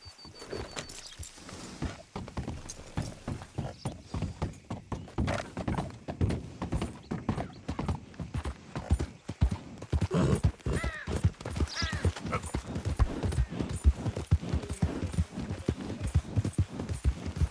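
Horse hooves clip-clopping in Red Dead Redemption II, a continuous run of close, rhythmic thudding footfalls that quickens and grows louder toward the end, with a brief whinny and no talking.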